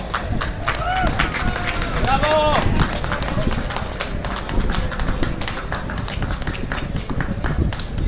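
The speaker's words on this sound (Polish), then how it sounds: "Brawa, brawa, brawa!" A crowd at the Warsaw Marathon team podium ceremony applauds steadily and loudly, with dense clapping throughout and a few voices calling out above it.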